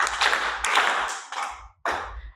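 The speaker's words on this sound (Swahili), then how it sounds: "Watoto tumpigie mwalimu makofi." A group of children claps for their teacher in several quick bursts of applause, loud and close, fading briefly before a final short round.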